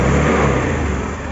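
A car engine runs just after its crankshaft position sensor was replaced, with a loud, close, broadband roar that stays strong and eases slightly toward the end.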